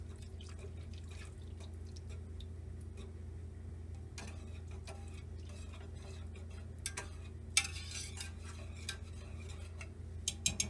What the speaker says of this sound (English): Milk again, and cream. Whisking everything together.